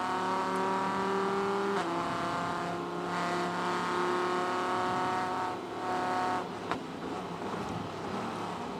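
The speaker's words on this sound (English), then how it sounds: "He's got around Bertolini in the Ferrari" GT race cars, including a Ferrari and a Porsche GT America, run at Sebring in 2014, loud engines droning with shifting pitch as they downshift and pass, with a sharp click near the end.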